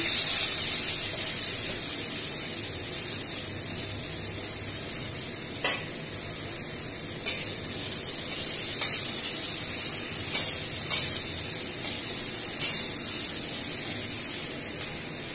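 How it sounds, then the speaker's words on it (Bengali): Dried red chillies and chopped medium onion fry in hot oil, giving a steady, close hiss of sizzling, with occasional sharp clicks and scrapes of a spoon stirring the pan; no voices. "এবার তেলের মধ্যে একটু শুকনো লঙ্কা ফোড়ন দিয়ে দিলাম, মিডিয়াম সাইজের পেঁয়াজ কুচানো"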